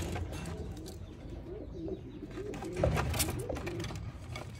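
A male pigeon of a special breed coos in a loft, soft low rhythmic calls repeating close by over a faint background of other birds.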